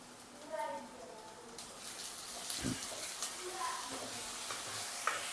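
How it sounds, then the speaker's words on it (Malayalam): Onions sizzle and sauté in coconut oil in a pan, a steady hiss with soft stirring scrapes, while a person talks over the cooking. "വെളിച്ചെണ്ണയിൽ ഉള്ളി വാട്ടിയിട്ട് എടുത്തേട്ടോ."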